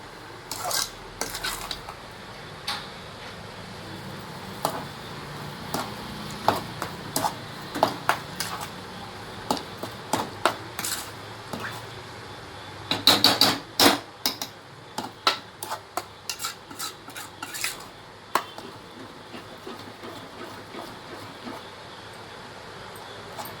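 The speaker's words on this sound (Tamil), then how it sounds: "சீனி சேர்த்துட்டும் அடி விடாமல் கிண்டணும்" Kesari being stirred with sugar in a pan, a long run of sharp ticks and scrapes as a spoon knocks against metal, irregular and close, heavier in a busy burst midway, over a faint background.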